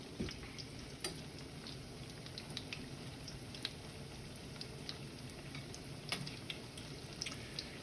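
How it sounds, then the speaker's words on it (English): Oysters frying in hot oil give a steady, quiet sizzle with scattered crackles and pops throughout, no voices. "let's fry some oysters"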